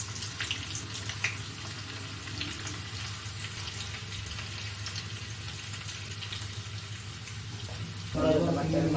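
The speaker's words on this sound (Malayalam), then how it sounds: "എണ്ണ ഒഴിച്ച് കടുകിടാം" Mustard seeds splutter in hot oil as tempering for a Kerala taro curry, a steady close sizzle with scattered sharp pops and a louder burst of crackling right at the end.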